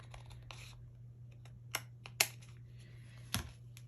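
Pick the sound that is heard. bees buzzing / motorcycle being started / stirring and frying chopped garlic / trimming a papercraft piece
trimming a papercraft piece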